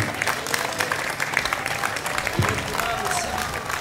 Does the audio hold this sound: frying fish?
no